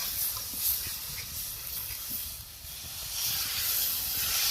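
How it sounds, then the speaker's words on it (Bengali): Water poured into a frying spice paste for boal fish curry hisses and steams steadily in the pan, a continuous close sizzle rising toward the end. "পরিমাণ মতন জল দিয়ে দেবো"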